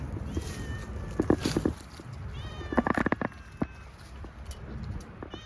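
A cat meowing repeatedly near the microphone outdoors, several drawn-out, wavering cries in two bursts with pauses between, plus faint rustling footsteps around it.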